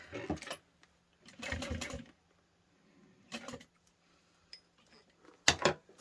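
A sewing machine stitching a backpack runs in short bursts separated by pauses, each run a quick mechanical whir close by, with small handling clicks between them and no talking.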